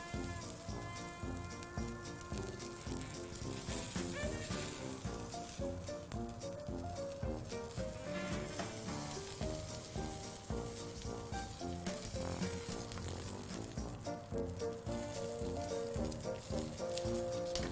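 A lamb shank sears in a hot pan with a steady, crackling sizzle that holds for the whole stretch at moderate loudness, with no talk.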